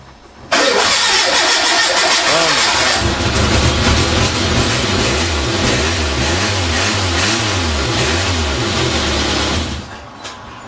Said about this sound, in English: you can hear her trying to start the car